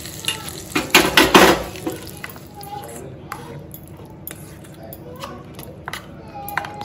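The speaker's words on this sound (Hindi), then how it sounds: "चटनी के ऊपर डाल के इसको अच्छे से मिक्स कर लीजिए।" Ginger garlic achari chutney stirred and mixed in a pan, a brief burst of scraping, clattering strokes early on, then quieter sizzling with occasional light clinks while someone talks.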